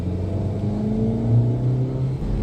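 Skoda Rapid sedan cruising at 80 km/h, a steady low engine hum and road rumble with a slight swell in revs partway through, heard from inside the cabin with no talking.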